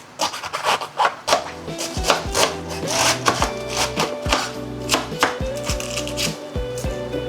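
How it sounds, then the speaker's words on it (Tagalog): A knife chops a cabbage on a cutting board in a home kitchen, with a rapid, irregular run of crisp, close thuds and scrapes, moderately loud and with no talking. "How do you even chop a cabbage?"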